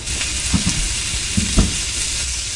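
Sparkling wine poured into a plastic cup at an outdoor camping spot in Sydney, Australia, making a steady, close, bright fizz with a couple of soft knocks as it is poured.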